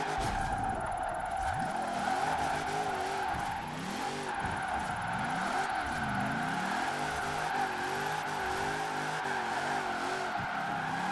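Hot Wheels Bone Shaker drifting in Forza Horizon 4, its engine wavering up and down in repeated swoops as the tires skid and slide, with a steady high whine and a fairly quiet overall level.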